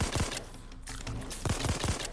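Burst-fire gun shooting in a video game, with two rapid clusters of sharp, loud shots near the start and again toward the end, separated by a brief lull.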